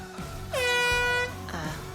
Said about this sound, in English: you don't want to use your air horn at the golf tournament